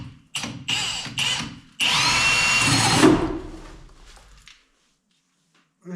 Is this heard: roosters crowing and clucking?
no